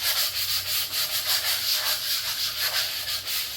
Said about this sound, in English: I'll use a coarse sandpaper, which I have here, and I will go over that whole surface